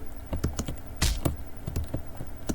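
Computer keyboard spacebar presses mixed with mouse clicks during play of a PC game, a series of sharp, close clicks and taps at an uneven rhythm, with no talking.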